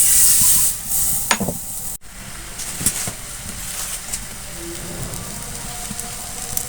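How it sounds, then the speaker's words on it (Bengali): A ladle of batter hits a hot frying pan for chicken roll wrappers and hisses loudly at first, then settles into a steady, softer sizzle with faint scrapes, close and continuous with no voices. "প্যানটা হিট হয়ে গেছে ফ্রাই প্যান আমি এর ভিতরে এক হাতা দিয়ে দিচ্ছি"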